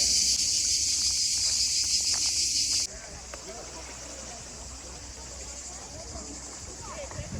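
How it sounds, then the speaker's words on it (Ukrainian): Cicadas at a beach campsite in Montenegro, a loud continuous high-pitched buzz that cuts off abruptly partway through, leaving quieter outdoor ambience with faint rustling. "Цикады, мы уже к ним привыкли здесь так,"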